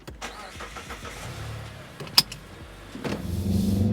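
A 2023 Mazda 3 AWD with the Premium Package, starting up: a sharp click followed by the engine catching and settling into a steady low idle near the end, with faint cabin noises before it.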